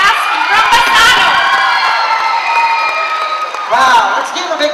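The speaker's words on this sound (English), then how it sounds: "let's give a big round of applause" A pageant audience cheers and applauds loudly at a beauty contest, whoops and shouts rising over clapping, then a fresh burst near the end.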